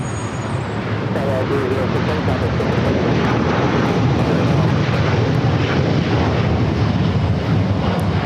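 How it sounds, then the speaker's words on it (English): An El Al Boeing 787-9 Dreamliner taking off at LAX bound for Tel Aviv, a loud sustained jet roar with wind buffeting the microphone, steady for the whole stretch while someone talks over it. "LL Flight 6 taking off to Tel Aviv on the 787-9 Dreamliner."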